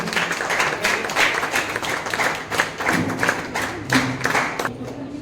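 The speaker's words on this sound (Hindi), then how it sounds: "जोरदार ताली बजाकर सम्मान करें हमारी मैडम का।" Audience applause at a teacher-honouring ceremony held by a music college, continuous dense clapping throughout with occasional louder bursts and some low thumps.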